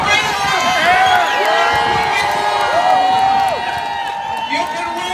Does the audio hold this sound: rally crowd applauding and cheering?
yes